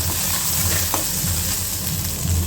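Garlic and capsicum sauté in a little oil, a loud continuous close sizzle with occasional scraping of a stirring utensil, no voices.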